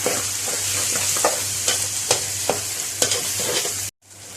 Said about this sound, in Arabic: كده شوحنا كله مع بعض وسبكنا كله مع بعض